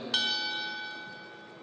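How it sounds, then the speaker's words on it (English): A single bell strike rings out to open a round at a chessboxing world championship, a bright metallic clang that decays slowly over more than a second. "And there's the bell."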